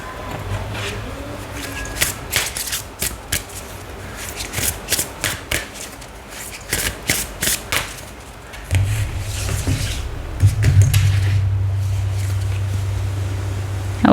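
Tarot guidance cards being shuffled by hand, a run of crisp riffling bursts and soft slaps in rhythmic clusters, with a low hum running beneath in the second half.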